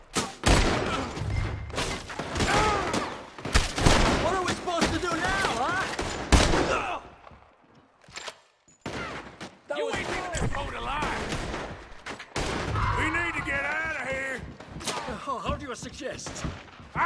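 Rapid gunfire in the video game Red Dead Redemption 2 pops and booms almost without pause in heavy, loud volleys, with short lulls. Voices talk over the shooting.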